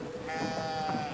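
A single sheep bleats in the video game Brothers: A Tale of Two Sons, a sustained wavering cry heard clearly over a low game ambience.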